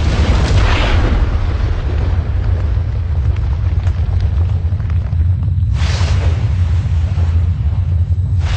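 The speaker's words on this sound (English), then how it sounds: "As the asteroids crashed to Earth, they smashed apart, and the water inside them escaped." Asteroids slam into the early Earth in a documentary-style effect: a continuous deep rumbling roar with heavy booming bursts, a sharp blast near the start and another around the six-second mark, loud and dense throughout.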